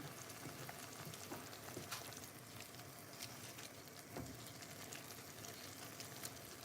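Spicy chicken adobo, a Jamaican-style take on the Filipino dish, bubbling and sizzling steadily in a pot as it reduces, a dense continuous close-up patter with no voices.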